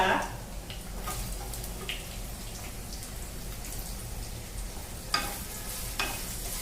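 Onion softening in a pan for a capsicum, pea and potato bhaji, a soft continuous sizzle with light crackling and occasional stirring clicks, close and fairly quiet.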